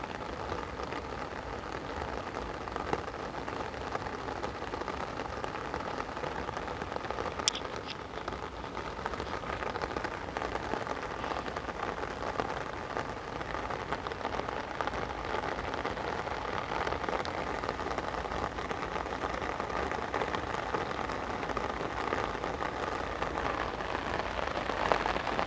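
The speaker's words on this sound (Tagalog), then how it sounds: "At tumataas pa kasi hindi pa tumigil yung ulan." Steady, dense rain pours down without pause during a flood in Dulong Bayan, Bambang, Taguig, a constant close hiss of drops hitting surfaces.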